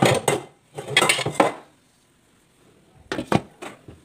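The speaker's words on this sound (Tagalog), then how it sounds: "Takpan natin ang ating ulam." Metal lid clattering onto a cooking pot of pork minudo, a few sharp clanks in two bursts separated by a quiet pause, close and fairly loud.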